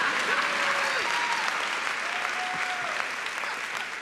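Sustained applause from a keynote audience at a school-district leadership conference, a dense steady wash of clapping that holds for several seconds, with a few faint voices and whistles carrying over it.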